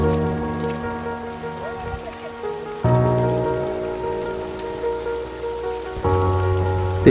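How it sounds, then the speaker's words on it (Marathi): Rain falling steadily outdoors on a fort trek at Sinhagad near Pune, a continuous wash of patter heard alone, with louder bursts around three and six seconds in. "तेवढ्यात पावसानेही आपलं आगमन केलं"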